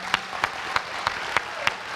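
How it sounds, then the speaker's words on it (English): Panel audience at a Spider-Man: Across the Spider-Verse event claps for the guests, with sharp, evenly spaced claps standing out above a steady wash of lighter applause throughout. "let's give a round of applause for our guests."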